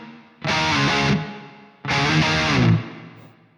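Guitar played through the reverb of a Bogren Digital MLC Subzero 100 amp plugin with a slapback tone: two distorted chord strums, each held about a second and trailing off in a short reverb tail.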